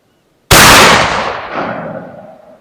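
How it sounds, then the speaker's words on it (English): A single loud 12 gauge shotgun slug blast at a shooting range, heard through electronic earmuffs, cracks sharply after a brief silence, then its boom rolls away and decays over the next two seconds. "we hear the gunshot through the wireless"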